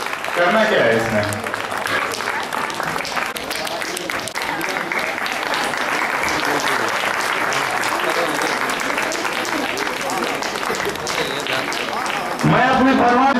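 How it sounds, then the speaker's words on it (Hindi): An audience at a Shree Ahibaran jayanti ceremony applauds in a long, steady stretch of clapping while someone talks over it through a loudspeaker. "तालियां बजती रहनी चाहिए।"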